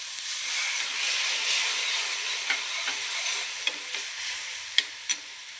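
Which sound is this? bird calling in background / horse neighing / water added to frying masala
water added to frying masala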